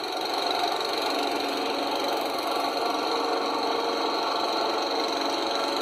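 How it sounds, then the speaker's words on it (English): A lawnmower cutting grass in a backyard or front yard drones as a steady, loud engine whine with a rough mechanical buzz. The sound stays close and unbroken throughout, with no talk. "It's the sound of a lawnmower!"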